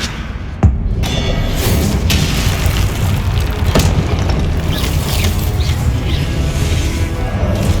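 A Confringo spell explosion in the video game Hogwarts Legacy lands as a sudden thudding boom, followed by a sustained loud rumble and crackle of in-game action.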